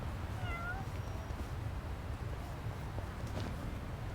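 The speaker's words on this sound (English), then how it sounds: "Yep, I hear meowing." A cat in the game Yakuza: Like A Dragon meows a few times early on, faint, high and drawn out over a low steady background hum.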